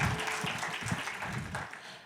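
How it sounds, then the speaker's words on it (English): Audience applause at a youth storytelling symposium, a steady wash of clapping from a crowd filling the whole stretch at a fairly even level, with some crowd noise mixed in. "Round of applause to them."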